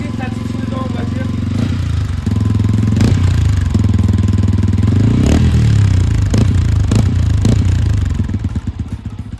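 A new motorcycle's engine runs loud and close, with a steady low rumble broken by several sharp revs and throttle blips, plus some mechanical clatter.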